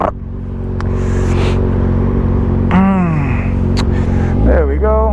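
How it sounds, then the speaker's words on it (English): A Yamaha MT-07 motorcycle engine, heard from a rider's position in London traffic, holds a steady, loud throbbing idle and then climbs in two rising revs, with a voice talking over it. "MT07. That's how they all sound."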